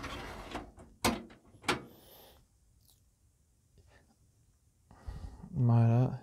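Small plastic drive bay drawers slide and click out of a Fractal Design Focus G PC case in a few sharp, close clacks and scrapes, separated by quiet pauses, with a voice briefly heard near the end.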